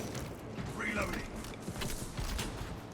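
A weapon being reloaded in the video game Space Marine 2, heard as a short run of mechanical clicks and creaks over a busy, noisy game soundscape.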